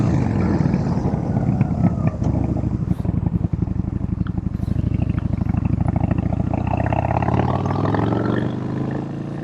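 A Yamaha Bolt 950 cruiser motorcycle engine rumbles at idle, a loud, close, deep throbbing with a pulsing beat that rises and falls as the throttle is blipped, then settles lower near the end.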